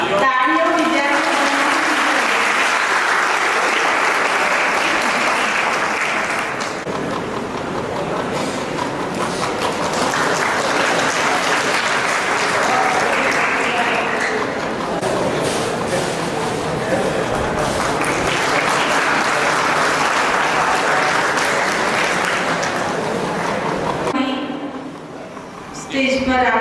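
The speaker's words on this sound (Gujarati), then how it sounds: "તાળીઓ વિદ્યાર્થીઓ." Students applaud at a college's 32nd annual function, a loud sustained crowd of clapping that swells in three long waves and fades briefly near the end.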